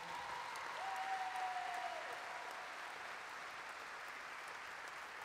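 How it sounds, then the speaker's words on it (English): An audience claps steadily through a mental-health talk event, a dense, continuous wash of applause at even loudness, with a faint whistle-like tone briefly riding over it early on. "instead of clapping for me, you guys should be clapping for yourselves"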